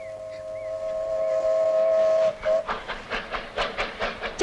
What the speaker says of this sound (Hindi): चल स्वामी चल, ट्रेन के साथ दौड़ लगाते हैं,